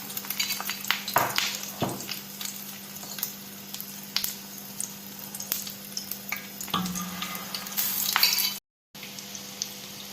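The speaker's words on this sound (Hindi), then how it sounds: "अब हम अपने कबाब फ्राई करने लगे हैं।" Chicken shami kebabs dipped in egg frying in a pan: a steady close sizzle with occasional clinks and scrapes of a utensil, briefly cut out near the end, no talk.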